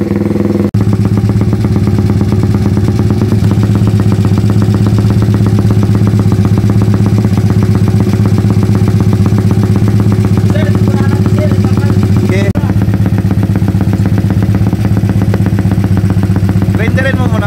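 A Honda PCT 150 motorcycle engine starts and settles into a steady, loud idle right up close, running continuously with some clattery mechanical noise on top.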